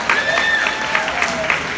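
Audience applause at an unplugged live performance by a soca artist in an Apple store in Williamsburg, steady clapping under faint background voices.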